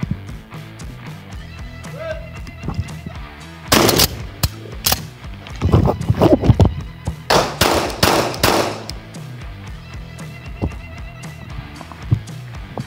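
Shotgun and pistol gunfire rings out during a combat shooting drill, with loud sharp shots in quick clusters at mid range, set against outdoor background noise and some talking.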